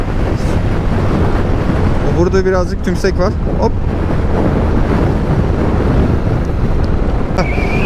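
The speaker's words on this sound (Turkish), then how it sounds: "Şu an inanılmaz rüzgar var." Heavy, constant wind roar buffets a helmet-mounted microphone on a moving motorcycle with the visor open, with an engine note underneath and someone speaking briefly in Turkish over it.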